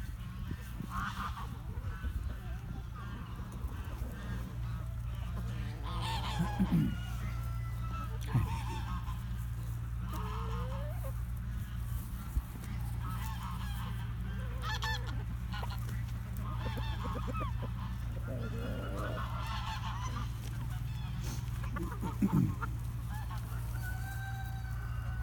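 Geese honk and European-breed chickens cluck and crow around a yard, in scattered calls at moderate distance over a constant low hum, with a person speaking quietly now and then.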